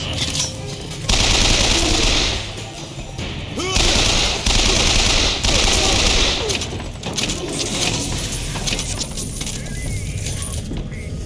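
Sustained automatic gunfire in the first-person shooter BioShock Infinite, loud continuous bursts of rapid shots with metallic clinks and game effects, while a player talks over the action.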